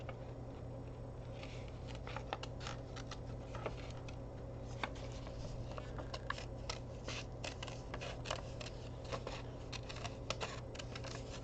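Small scissors snip paper for a collage, giving soft crisp cuts in an irregular run of quiet clicks and rustles close by, with no voice over them.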